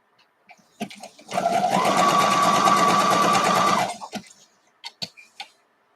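A sewing machine stitches a basic zigzag in one steady whirring run of about two and a half seconds, bracketed by soft clicks and small handling taps before and after.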